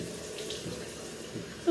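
A bathroom tap runs steadily into a sink while a face is rinsed, a continuous close splashing stream with no talking.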